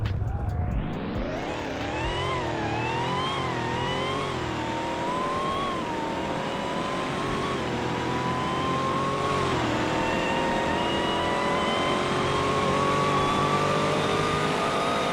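A Dodge Charger with an 8-speed dual-clutch automatic floored at full throttle, the engine roaring loud and close as its pitch climbs steadily through the gears, a continuous rising drone.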